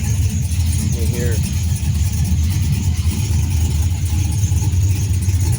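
An engine with an LSA cam idling, a loud, steady low rumble close by, with a faint jingle of keys early on.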